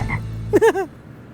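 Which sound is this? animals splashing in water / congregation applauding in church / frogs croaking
frogs croaking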